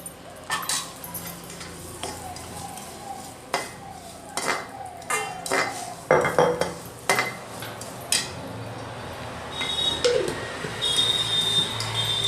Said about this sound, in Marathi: स्लो गॅसवर याला 7 ते 8 मिनिटं भाजायचे.